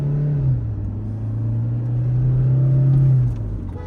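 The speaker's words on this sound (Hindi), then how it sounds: "अब देखो मैंने खींच दी गाड़ी" A Toyota Fortuner SUV in sport mode accelerates hard, its engine a loud, steady droning rumble that builds and holds for several seconds before easing slightly at the end, heard with no talking.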